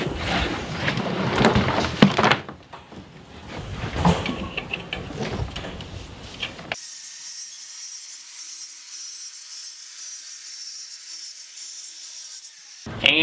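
Cutting a section of material for a rabbit hutch, heard as a rough rubbing, sawing scrape that runs in bursts, then a steadier high-pitched hiss for several seconds before a brief louder noise at the end; no speech.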